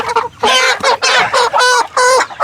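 Chickens being caught for harvest cluck loudly and close, a rapid series of squawking calls in bursts with short pauses between them.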